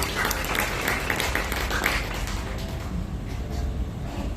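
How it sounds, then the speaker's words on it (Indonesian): A church congregation claps during a sermon, a fairly soft, diffuse wash of applause that thins out toward the end. "Berikan tepuk tangan bagi Tuhan kita."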